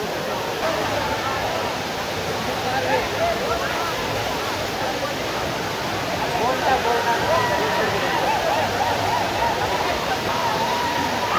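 A waterfall in Kolli Hills, reached after a long descent of steps, gives off a constant rushing roar of falling water, with voices speaking nearby.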